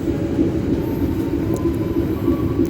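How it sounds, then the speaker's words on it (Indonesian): An electric KRL commuter train on the Bekasi–Cikarang line rumbles past close by, a steady loud roar of wheels and motors with faint clattering, no voices. "dan kita bertemu dengan KRL"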